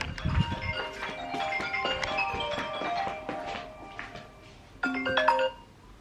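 A mobile phone ringtone plays a bright melodic tune in a room, fairly loud and continuous, with a thump at the start and a louder repeat of the phrase near the end.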